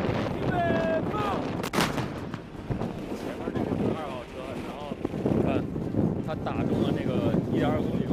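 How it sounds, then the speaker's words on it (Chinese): Artillery fires a direct-fire shot at visible targets 1 km away during a live-fire exercise at Zhurihe with the Blue Army brigade; one loud broadband blast rings out early, surrounded by continuous narration and wind-like rumble. "现在他们要对 1公里外看得见的目标进行直接瞄准射击"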